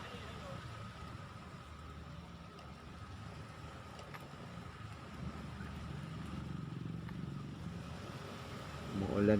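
Motorcycles riding stop-and-go in the rain on a city street in Pasig, a low, faint engine drone and road hiss that rises slightly toward the end.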